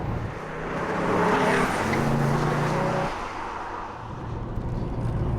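Ginetta G60 sports car with a 3.7 litre Ford V6 engine driving at steady speed, a continuous loud engine drone with a slight rise and dip in level throughout, no voices.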